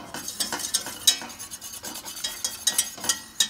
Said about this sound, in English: So you just wanna keep mixing it until it's a slight consistency.